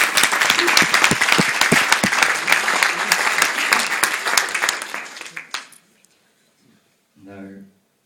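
Wedding guests give a strong burst of clapping that holds steady for about five seconds, then dies out into quiet before a brief voice is heard.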